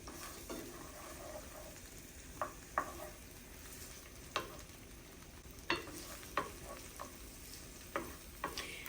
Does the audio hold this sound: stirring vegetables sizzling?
yes